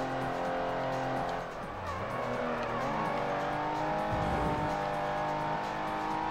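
A Ford stock car in the Ford Racing video game roars at steady high revs, its engine pitch shifting while tires squeal and skid through corners, loud and continuous.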